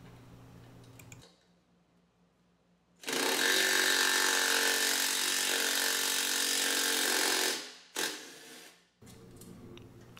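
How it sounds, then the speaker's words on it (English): An impact driver runs nutserts into their final position on an electric-converted Razor quad ATV frame. It fires in one long loud buzzing burst and then a shorter one, with quiet gaps between them. "I will again incorrectly use an impact to run them into the final location."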